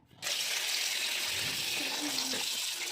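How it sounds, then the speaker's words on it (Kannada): Running tap water pours steadily over fish being washed in a kitchen sink, a continuous broadband gush that starts abruptly and holds at a constant level, with faint handling sounds beneath. "ನೀಟಾಗಿ ವಾಶ್ ಮಾಡೋಣ"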